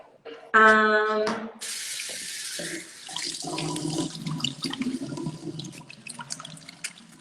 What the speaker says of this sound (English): So anyway, I'm going to wash my face.